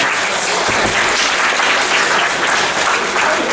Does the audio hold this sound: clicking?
no